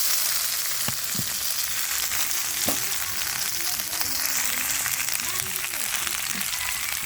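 Malabar spinach fruits frying in a pan with browned onions, green chillies and cumin, a steady close sizzle running throughout with occasional stirring clatter and a voice speaking briefly over it.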